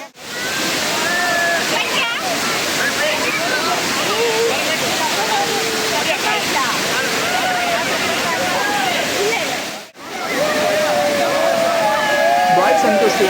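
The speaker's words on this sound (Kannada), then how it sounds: "ಈ ವಾಟರ್ ಫಾಲ್ಸ್ ಹೆಸರು ಬಂದು ಟೂರ್ ಮನೆ ವಾಟರ್ ಫಾಲ್ಸ್ ಅಂತ, ನಿಯರ್ ಕಳಸ ಹತ್ರ ಇರೋದು." Tour Mane waterfall near Kalasa roaring continuously at close range, a dense, loud wash of falling water that briefly drops out once before resuming.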